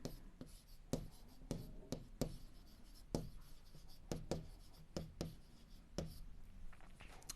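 Chalk or marker strokes on a board during a Hindi-language class 7 geometry lesson on lines and angles, a steady series of sharp scratching taps and strokes, close and distinct, with no voice over them.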